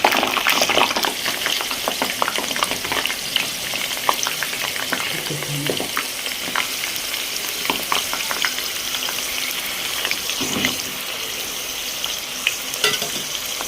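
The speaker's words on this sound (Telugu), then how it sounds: "ఇలా 4 వంకాయలు పడతాయండి చిన్న మూకుల్లో. ఇలా వేయించుకుందాం." Four eggplants fry in oil in a small pan, giving a continuous bright sizzle studded with sharp crackles and spits, plus a few soft scrapes of stirring throughout.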